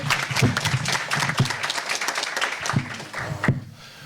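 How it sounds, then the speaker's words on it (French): An audience at a conference-debate on resistance journals claps for the host, a crowd of hands patting in an uneven, moderately loud burst that thins out toward the end. "Et oui, on peut l'applaudir."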